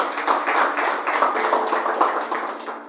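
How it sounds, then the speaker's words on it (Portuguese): A church congregation claps steadily together during a Portuguese-language evangelical service, a dense, loud wash of many hands with a gently pulsing rhythm that carries on without a break. "Palmas para Jesus"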